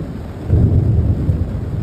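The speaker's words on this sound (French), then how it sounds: "il y a eu un énorme orage qui est passé au-dessus de nos têtes" Summer thunderstorm passing overhead at a camp in France, a deep rolling thunder rumble swelling midway under a steady wash of rain, with no voices.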